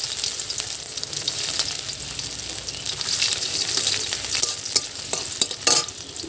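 Ginger hits hot oil with cumin seeds, giving a steady crackling sizzle with brisk stirring scrapes and a few louder pops near the end.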